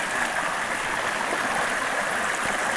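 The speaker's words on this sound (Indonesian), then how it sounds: "Ini sungainya" A clear spring-fed mountain stream on Gunung Salak, along the trek to Kawah Ratu, rushes close by in a steady, dense wash of water with no break and no voices.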